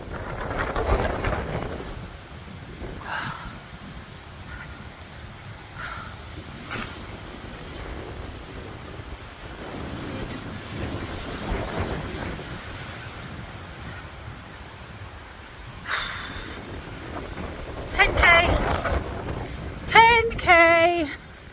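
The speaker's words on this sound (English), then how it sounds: "Said it was windy. It is windy." Strong wind buffets the microphone while sailing, a steady roar with water and surf noise beneath, swelling in gusts and louder toward the end, with a few brief voice sounds.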